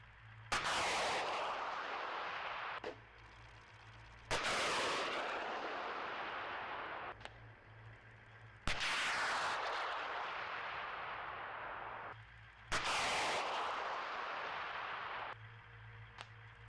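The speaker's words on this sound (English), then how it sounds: "Bradley missile against the Soviet tank." Video game gunfire in a battle pitting a Bradley missile against a Soviet tank: four loud, sharp blasts a few seconds apart, each trailing off in a long rumbling decay.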